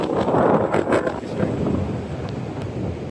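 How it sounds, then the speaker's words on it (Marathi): Strong wind at a beach buffets the microphone in loud, rumbling gusts, roaring steadily with brief surges throughout. "वारा खूप जास्त आहे"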